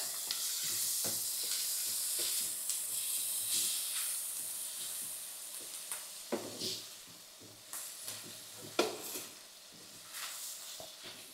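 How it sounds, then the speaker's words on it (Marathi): Garlic and chili thecha sautéing in a pan, with a steady hissing sizzle broken by scattered sharp stirring knocks and scrapes, moderately close, with no voices. "आणि तो ठेचा पण आपल्याला असा हा परतून घ्यायचा चांगला।"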